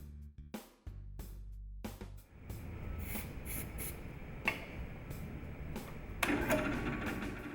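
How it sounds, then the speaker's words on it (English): A shop-made cutter bores half-inch holes in a leather-covered recoil pad, with oil on the cutter; a steady, close whirring grind runs almost throughout, with a few brief bumps and louder surges and no talk. "I'm using a shop-made cutter to cut 1/2-inch holes in the pad."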